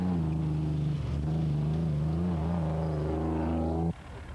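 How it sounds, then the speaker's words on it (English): A Nissan Hardbody rally truck engine drones loud and close in a desert rally race, a steady low hum with slight pitch shifts as it drives, then cutting off abruptly near the end. "GBS racing pair JP and Linda Augustine were getting to grips with their newly acquired Nissan hardbody"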